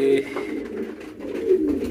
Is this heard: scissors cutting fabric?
no